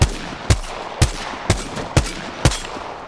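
Six sharp, evenly spaced G7 Scout rifle shots from the video game Apex Legends, about half a second apart and each with a short booming tail, in steady semi-automatic rhythm without any talk.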